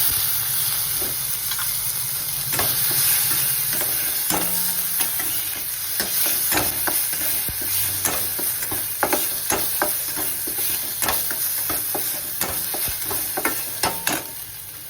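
Finely chopped tomato with turmeric and chilli powder frying in a pan, with a loud continuous sizzle and hiss under frequent close scraping strokes of a spoon stirring, steady throughout with no talking.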